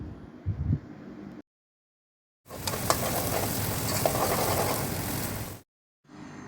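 Ground spice paste hits hot sunflower oil in a pan, a steady close sizzle and frying hiss lasting about three seconds between silent gaps, with brief stirring sounds before and after.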